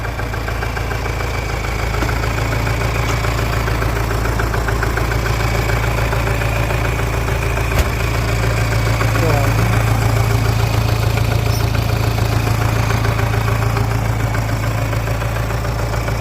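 A Belarus MTZ 4x4 tractor's diesel engine idles steadily with a low, throbbing rumble that holds even throughout, close by.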